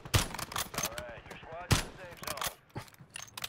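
Gunfire in Call of Duty Warzone, with two sharp loud bursts about a second and a half apart among scattered quieter shots, while players talk over the action.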